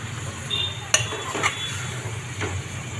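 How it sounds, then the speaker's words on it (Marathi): Stirring potato and tomato with brinjal in a pan as an Indian vegetable sabji cooks, with a few sharp spoon scrapes and clinks against the pan over a steady low sizzle. "वांग्याला तेल सुटल्यानंतर बटाटा टॅमॅटो छान मिक्स करून घेते"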